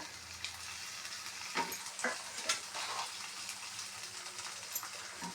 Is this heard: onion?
yes